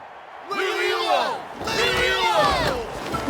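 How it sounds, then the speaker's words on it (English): A Genshin Impact crowd cheers in two lively bursts of overlapping whoops and shouts, swelling and fading, with a quieter gap between them. "Hear that? Exhilarating cheer from the crowd."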